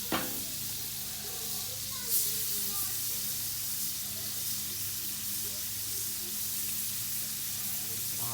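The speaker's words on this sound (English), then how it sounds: "Little butter on the griddle." Butter sizzles on a hot griddle as steak fillets are about to go on, a steady close frying hiss with a brief clatter near the start and a soft crackle partway through.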